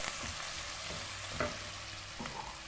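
Bacon and chopped medium onion fry in a pan with a steady hiss. Several scraping stirs with a utensil cut through it at close range, and no voices are heard.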